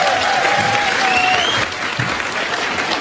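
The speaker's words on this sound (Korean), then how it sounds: "박수 한번 쳐주셔야 돼요" Audience applause at a Korean National Assembly hearing holds steady and dense throughout, loud clapping from a crowd that eases slightly after the midpoint.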